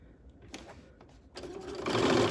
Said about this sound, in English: I'm going to stitch over on top of that lining to catch those seam allowances.